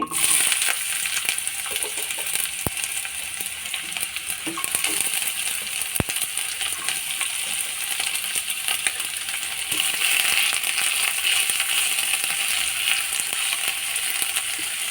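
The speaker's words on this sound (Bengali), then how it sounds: "তারপরে পেঁয়াজটা ভেজে নিচ্ছি" Onion frying in hot oil in a pan, a steady close sizzle and crackle that carries throughout with occasional faint clicks, and no talk.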